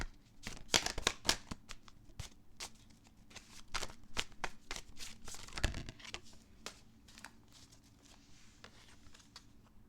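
Tarot cards are shuffled close by in rapid riffling bursts, with papery slaps and flutters repeating for several seconds and no talk over them.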